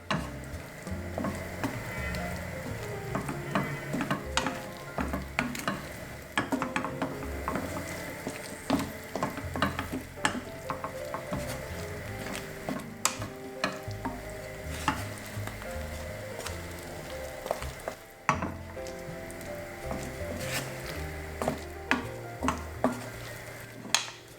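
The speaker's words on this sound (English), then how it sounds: "Now I need to keep moving them around to make sure they coagulate with everything" Khlea, a cured dried meat, sizzles in a pan while it is stirred, with steady frying hiss broken by frequent clinks and scrapes of a utensil against metal, moderately loud and continuous.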